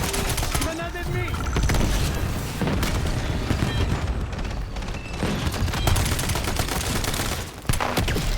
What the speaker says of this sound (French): Grenade ennemie!